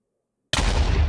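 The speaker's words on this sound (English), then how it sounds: "So you guys heard that explosion." An explosion goes off in the Nether in the Minecraft Tekkit mod: after a moment of silence, one abrupt, loud, booming blast hits and rumbles on, with no talking.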